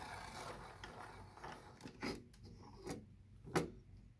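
Electric hole-punching machine working fabric for a basic face mask, producing a few soft mechanical clunks and ratcheting clicks over a low rumble, fairly quiet and close.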